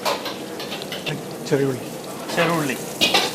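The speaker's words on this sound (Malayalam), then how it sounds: "അപ്പോൾ നമ്മളൊന്ന് ഫ്രൈ ചെയ്തെടുക്കുക അല്ലേ, ചെറുതായിട്ടൊന്ന് സോട്ട് ചെയ്ത് എടുക്കുകയാണ്" Coconut pieces sautéing in a pan with small shallots in a traditional Kerala kitchen, giving a steady sizzle with stirring scrapes under a man's close-up talk throughout.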